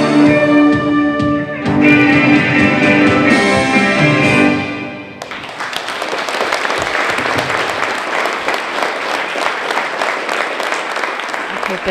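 A voice speaks over music at first, then a burst of loud applause from an audience takes over and continues steadily.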